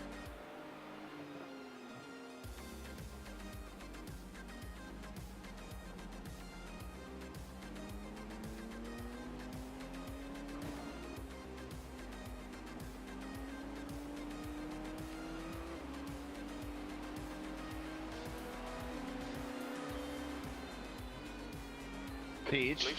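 Engine drone of a faster-class race car closing in during the 12 Hours of Spa endurance race in a racing game, a steady continuous roar with rising pitch sweeps, loud throughout, while people talk over it.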